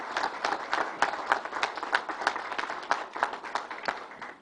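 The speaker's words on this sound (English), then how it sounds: "Let's give a big round of applause to everyone." Applause from a small crowd after a governor's speech announcing a New York Islanders arena at Belmont Park, with distinct individual claps standing out in an uneven, moderately close rhythm.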